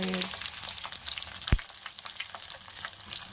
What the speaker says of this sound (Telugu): ఎల్లిపాయలు కొంచెం క్రష్ చేసి వేస్తున్నారు